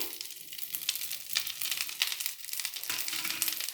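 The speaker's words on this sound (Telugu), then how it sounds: "అవి బాగా వేగాలండి ఇక్కడ మనకు క్రిస్పీగా వచ్చేంత వరకు వేగాలి అలాగే కరివేపాకు కూడా వేసుకుందామండి" Drumstick leaves and curry leaves fry in hot oil in a pan, giving a steady close crackling sizzle with brief louder spits throughout.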